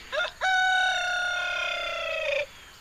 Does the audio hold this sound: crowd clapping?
no